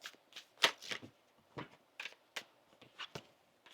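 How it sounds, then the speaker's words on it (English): Tarot cards are shuffled by hand in a quiet room, a run of crisp papery riffles and taps coming in short irregular bursts, close and fairly soft. "One more shuffle here, please, and thank you."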